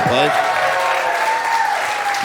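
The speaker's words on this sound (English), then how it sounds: "How about a round of applause?" Audience applauding in the Mystic Theater in Petaluma during a live show, a steady full round of clapping with a voice speaking over it and a short sung or whooped tone at the start.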